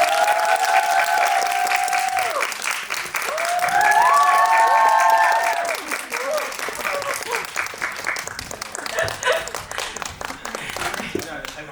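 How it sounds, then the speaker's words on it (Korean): Loud, sustained applause from a packed audience at a Korean film festival screening Q&A as the director and lead actor take the stage, with a host's amplified voice talking over the clapping. "큰 박수 부탁드립니다."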